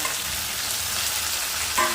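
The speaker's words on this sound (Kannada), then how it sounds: "ಇದಕ್ಕೇನೆ ಕಟ್ ಮಾಡಿರೋಂತಹ ಟೊಮೆಟೊನ ಹಾಕೊತಾ ಇದ್ದೀನಿ" Chopped tomatoes fry in hot oil in a pan for upma, a loud continuous sizzle close up with a slight bump near the end.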